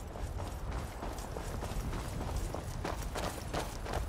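Horse hooves clip-clop in the video game Skyrim, a soft, steady trotting rhythm over a rumbling ambient wash.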